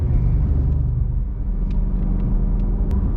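A Shelby GT350 muscle car's engine and exhaust rumble deeply and steadily while driving, a loud, close, continuous low drone from the cabin with faint higher clicks over it.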